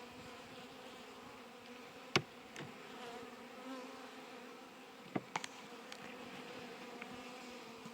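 Honey bees drone steadily around an opened spring hive during a frame inspection, a continuous, fairly quiet buzz with a few sharp knocks and clicks as frames are handled.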